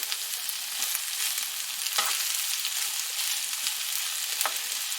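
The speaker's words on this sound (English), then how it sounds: "you want to make sure you keep stirring it around so that nothing burns to the bottom of the pan" Jambalaya sizzling in a single pot as it is stirred, a constant hiss broken by a few brief scraping strokes against the pan bottom.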